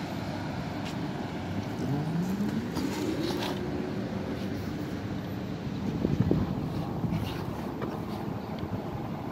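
A Polytron Fox S electric motorcycle rides along outdoors with a steady rush of wind and road noise and a faint rising electric whine, the rumble swelling briefly partway through.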